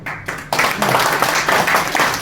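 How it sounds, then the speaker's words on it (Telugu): An audience at a motivational speech event in Khammam bursts into loud, steady applause after a brief opening pause, with dense clapping continuing to the end. "బాలాజీ గారికి గట్టిగా చప్పట్లు కొట్టండి."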